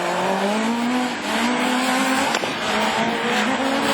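Super 1600 rallycross cars at Lessay race past under full throttle, a loud continuous engine howl with rising pitch and faint tyre scrubbing, heard from trackside with no talk.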